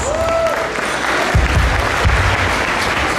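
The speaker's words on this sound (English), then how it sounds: "Let's give them a round of applause." Audience applause at a Philippine Independence Day ceremony, a steady wash of many hands clapping that fills the whole stretch, loud and close, with no talk.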